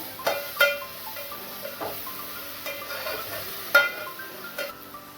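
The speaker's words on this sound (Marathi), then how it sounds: "अद्रक लसूणचा कच्चापणा जाईपर्यंत आपण त्याला फ्राय करूया" Ginger garlic paste stirred in a hot pan with a spoon, giving soft scattered clinks and scrapes over a faint low hiss, quiet and close, with no voices.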